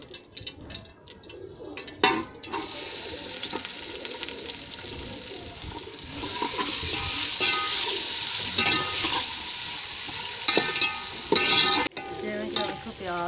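Two chopped onions frying in ghee for a chicken feet curry: quiet clinks at first, then a loud, steady sizzle that swells and carries on, broken by occasional stirring scrapes and clatters.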